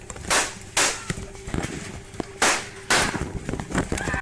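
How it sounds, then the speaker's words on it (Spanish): Gunshots fired during a livestream, several sharp cracks spaced irregularly, sounding loud and close against a quiet background, with a few fainter clicks between them. "sonando así los primeros disparos que desataron el caos en la transmisión"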